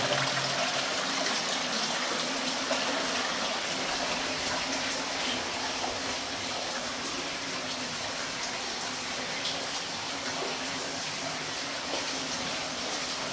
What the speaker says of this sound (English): See the water coming down there.